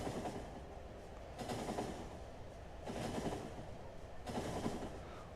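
Train rolling along rails in the Factorio video game, a steady rumbling clatter that swells in three regular surges, fairly faint and with no voices.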